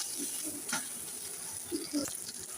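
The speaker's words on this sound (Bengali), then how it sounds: "আমি মাছটাকে হালকা তেলে হালকা ভেজেছি হলুদ লবণ হলুদ দিয়ে" Fish frying gently in a little oil with turmeric and salt, a soft steady sizzle with a few brief louder bursts, close by and continuous.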